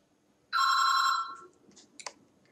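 An in-game telephone rings in Life Is Strange: a loud, steady electronic ring lasting about a second, then faint clicks and small sounds.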